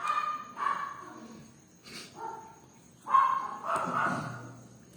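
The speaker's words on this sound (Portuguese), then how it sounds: "Esse cachorrinho me desconcentra" A small dog, a little puppy, lets out several short high yapping barks in separate bursts, fairly close and clear, with quiet gaps between them.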